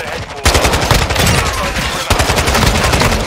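Rapid automatic gunfire rattles loudly in Call of Duty MW2, with a dense burst that pauses briefly and then resumes, close and sharp.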